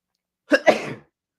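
A single close sneeze, a sharp burst followed by a short breathy release, loud and alone in an otherwise quiet room.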